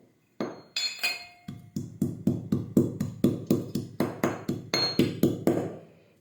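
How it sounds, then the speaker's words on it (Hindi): Garlic is pounded in a kootni mortar in a home kitchen, about sixteen sharp, near, hard knocks in a steady rhythm. Each ringing strike follows a brief pause, with no talk over it. "तो हमारे पास है कूटने के लिए इस तरह का कूटनी।"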